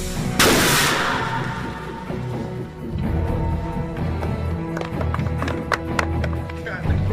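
A loud blast from a Jericho missile explosion effect on the 2008 Iron Man film set at Lone Pine, a sudden boom that rolls off slowly, then distant crowd noise and scattered knocks.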